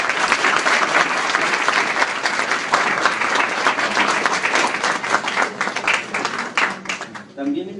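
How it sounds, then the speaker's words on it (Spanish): A conference audience gives sustained, full applause, the crowd clapping steadily for several seconds before it thins out and fades at the end. "Aplausos, por favor."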